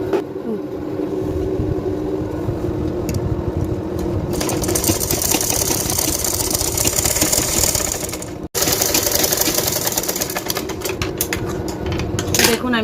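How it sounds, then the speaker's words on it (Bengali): A sewing machine stitches a lehenga blouse in a rapid, steady mechanical whir with brief pauses, close up, with occasional voice in the background. "আমি এখানে সুন্দর করে সেলাই করে নিলাম"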